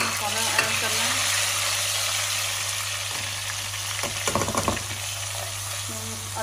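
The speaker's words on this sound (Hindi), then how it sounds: "जब मैं अच्छी तरह मसाला भून लूँगी" Onion, tomato and masala frying in a pan, a dense steady sizzle heard close with a low background hum, broken by a few clattering scrapes of a spoon stirring, no talking.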